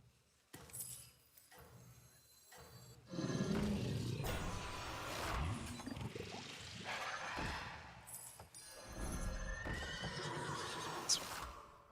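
A horse neighs in the Hearthstone Battlegrounds video game, a whinny standing out among busy game effects while someone talks over the gameplay.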